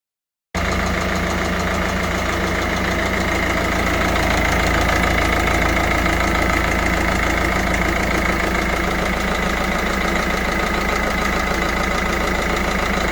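Peugeot 407 SW engine idling after repair work with a replaced engine, turbo and injectors, a steady mid-pitched rumble with a faint knocking vibration, running continuously and evenly after starting.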